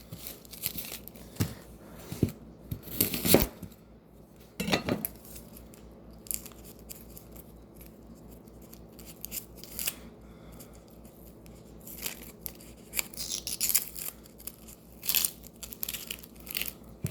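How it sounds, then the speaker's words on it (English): A knife chops an onion: irregular crunchy cuts with a few sharp louder chops early on, then scattered softer slicing and scraping sounds, close and unhurried. "First thing we're gonna do, cut up an onion."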